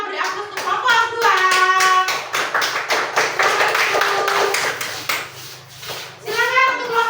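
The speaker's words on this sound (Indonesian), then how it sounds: "Oke, kita beri aplaus untuk kelompok 2." A classroom of elementary school children claps in steady, rapid applause for several seconds, with a teacher's voice speaking at the start and again at the end.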